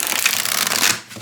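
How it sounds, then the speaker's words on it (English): A thin, flexible tarot deck is riffled in a dense, rapid flutter of card edges that stays close and loud, then cuts off abruptly, with no voices. "it shuffles beautifully"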